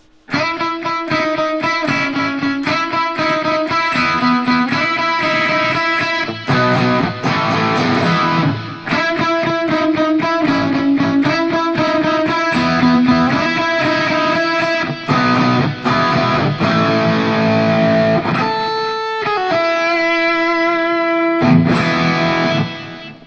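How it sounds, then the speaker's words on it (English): A distorted electric guitar chugs a driving palm-muted intro riff, loud and steady, with occasional open chords ringing out near the end. "You've got some palm muting that's going to take place in this"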